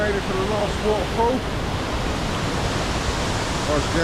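A waterfall on a hiking trail in Wales roars as a steady broadband rush of falling water. It stays constant and close for the whole stretch, and faint voice-like traces sit low beneath it.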